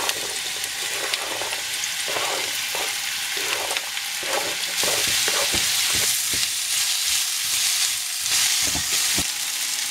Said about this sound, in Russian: Нагреваем сковородку и обжарим лук до золотистого